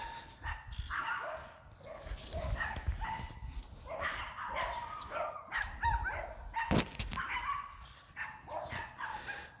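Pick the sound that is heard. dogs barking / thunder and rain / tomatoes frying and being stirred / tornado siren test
dogs barking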